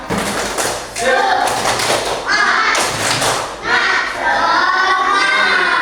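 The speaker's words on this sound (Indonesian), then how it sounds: "kita tepuk semangat dulu biar tambah semangat" Classroom of children doing a rhythmic spirit clap chant, with bursts of loud clapping and thumping on desks alternating with children's voices shouting along, close and lively.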